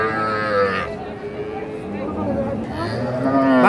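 A cow at a rural cattle market lows in long drawn moos, one near the start and another rising toward the end, loud and close, with people talking in the background.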